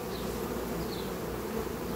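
Honeybees buzzing steadily around a hive entrance fitted with an anti-robbing device, a dense continuous drone close by with no voices.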